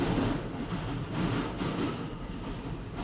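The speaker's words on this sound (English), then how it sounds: "There's the train right outside." An M subway train passes right outside, a loud, continuous rumble and rattle of rail cars that keeps going throughout with no talking.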